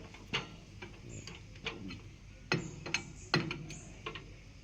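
A power tool works bolts loose during a clutch replacement, giving sharp, irregular bursts of mechanical clicking and ratcheting. The strikes are moderately close, spaced apart, and sit over a quiet workshop background.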